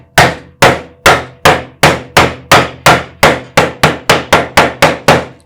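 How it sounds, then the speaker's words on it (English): Steady series of about fourteen loud, sharp hammer blows around a hole in a homemade DIY tool box, each strike ringing briefly before the next, speeding up slightly toward the end, with no talking. "Make sure if you have to hammer it that you hammer all the way around the hole"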